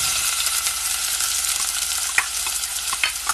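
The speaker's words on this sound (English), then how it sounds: "The oil is sizzling." Onions frying in hot oil, giving a steady, close hiss of sizzling with a few crackles and pops near the end and no talking.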